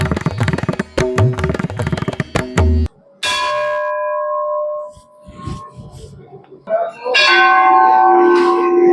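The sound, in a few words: temple bells ringing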